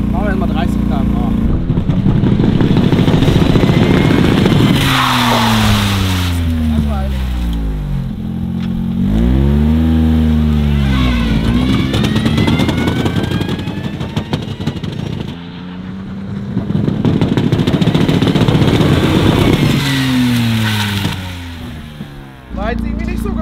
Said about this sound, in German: ich werde jetzt mal eben, damit wir die Straßenzulassung kriegen, eine Gefahrenbremsung durchziehen